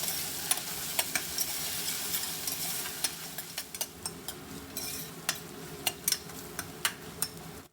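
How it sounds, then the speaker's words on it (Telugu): Ginger garlic paste frying with softened onions in a pan for spicy paneer pulao, a steady low sizzle with frequent sharp clicks and taps of a spoon stirring against the pan, close and moderately quiet. "ఒక స్పూన్ వరకు అల్లం వెల్లుల్లిపాయ పేస్ట్ వేస్తున్నాము ఇది కూడా బాగా వేగిన తర్వాత"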